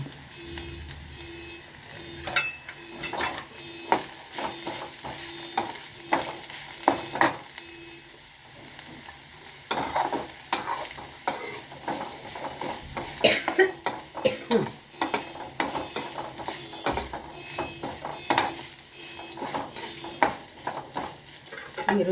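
Chopped onion sizzles steadily in hot oil alongside chana dal, green chillies and curry leaves, with repeated sharp clinks and scrapes of a spoon stirring the pan over a continuous frying hiss.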